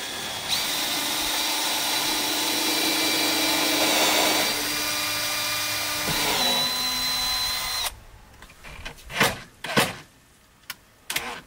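A power drill whines steadily as it drives screws into a countertop in a tiny home build on wheels, the motor pitch shifting as each screw seats, then stopping abruptly and leaving a few short clunks and knocks.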